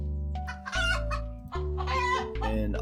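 Chickens in the farming video game Terracards cluck and squawk loudly, with a rooster-like crowing call, repeated bursts over a steady game background.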